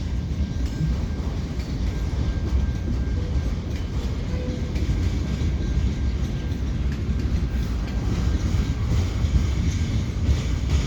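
A slow eastbound CN freight train crosses the Lachine Canal bridge in St Henri under grey skies, a loud, close, continuous rumble of wagons with faint rail squeal and some wind buffeting throughout.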